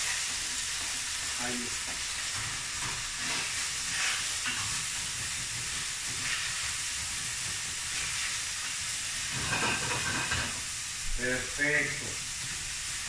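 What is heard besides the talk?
panceta and onion frying in oil in a pan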